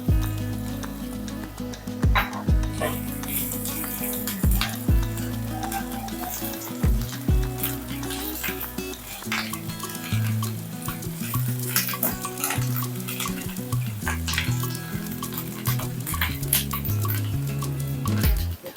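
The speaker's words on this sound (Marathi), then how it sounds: "आले लसणाची भरड घालूया" Coarse ginger-garlic paste sizzles and fries in a hot pan for Nashik-style black misal, with steady crackling, occasional stirring and utensil clinks close up, no talking.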